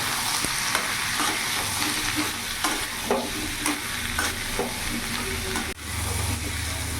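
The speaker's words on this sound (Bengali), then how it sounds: "এবার ভালো করে মিশিয়ে নেব" Sweet pumpkin sizzles in a pan with turmeric, cumin powder and Kashmiri chilli powder while a spatula scrapes and taps in a steady stirring rhythm, close and moderately loud.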